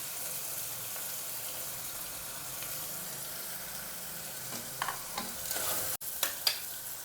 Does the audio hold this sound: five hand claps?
no